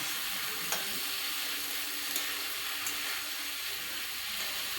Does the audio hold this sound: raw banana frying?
yes